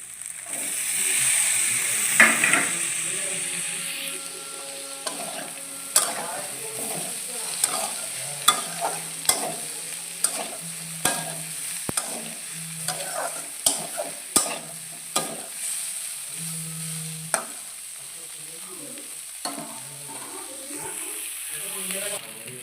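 Sautéed onion, chopped tomato, potato and cauliflower sizzle steadily in a pan for aloo phulkopi bhujia while a utensil scrapes and clacks against it in repeated strokes, with a voice talking briefly underneath.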